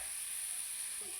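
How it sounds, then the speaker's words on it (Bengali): Chopped carrots frying in oil in a pan, giving a steady, even hiss of sizzling that holds at the same level throughout, close by and alone with no voices. "এই তেলে আমি এবারে আস্তে আস্তে গাজর কুচিগুলো দিয়ে দেব। এগুলো আমি আস্তে আস্তে এবারে ভেজে নেব।"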